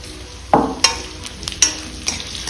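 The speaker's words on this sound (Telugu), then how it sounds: "చూసారా చక్కగా వేగిపోయినాయి దొండకాయలు" Ivy gourd pieces frying in a pan, with a soft sizzle behind several sharp scraping and stirring clatters spaced irregularly, close and clear, no talking.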